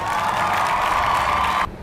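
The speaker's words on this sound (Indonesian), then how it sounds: "Tepuk tangan untuk kelompok 2." Crowd cheering and applause for group two during an online practice-teaching class, loud and dense throughout with a bright whooping edge, ending abruptly just before two seconds.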